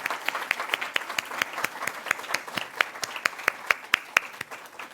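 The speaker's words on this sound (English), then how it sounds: "let's give a round of applause to IMP Solutions" A small audience at an awards ceremony applauds in sparse, distinct claps that repeat steadily for five seconds at moderate loudness, with no talk over them.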